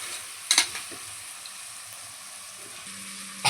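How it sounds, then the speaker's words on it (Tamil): Chicken pieces fry in oil for a chicken kuska, making a soft continuous sizzle with a couple of sharp spatters near the start and a quiet scrape toward the end. "நல்லா கறி வதங்கி பாருங்கள், எண்ணெய் அப்படி பிசுஞ்சு வந்துருக்குங்க"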